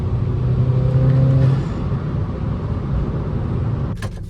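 A 1.8T MK1 Rabbit pickup drives along with a steady engine hum and a brief rising whine early on, heard from inside the car with no one speaking.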